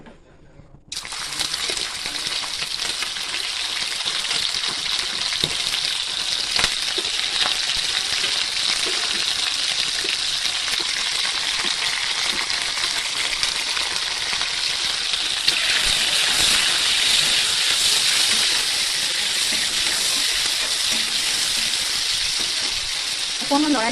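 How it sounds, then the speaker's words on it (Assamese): Chicken pieces for a dry chicken dish drop into hot oil and fry with a loud, steady sizzle that flares up about a second in and keeps going, with occasional stirring beneath a voice. "তেল গৰম হৈ গৈছে আৰু এতিয়া মই ইয়াতে মাংসখিনি দিম"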